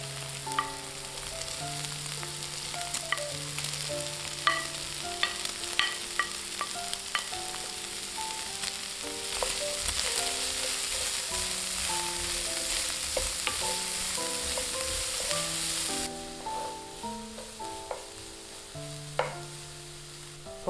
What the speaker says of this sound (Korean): 파와 베이컨의 향이 넉넉히 올라오면 나머지 재료들을 모두 넣고 볶아줍니다.